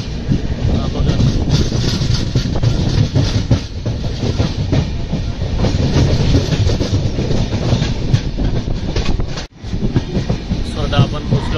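A Konkan Railway passenger train travels from Mumbai toward Rajapur, rumbling loudly along the tracks with continuous clickety-clack wheel rhythm and a brief dip in the noise near the end.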